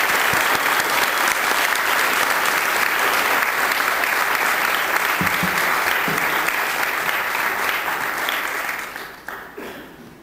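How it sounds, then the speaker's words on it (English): An audience at the 2022 Pigeon Falls variety show applauds a group of veterans: loud, dense, sustained clapping from a full room that fades toward the end. "let's give these gentlemen a round of applause and tell them thank you for their service"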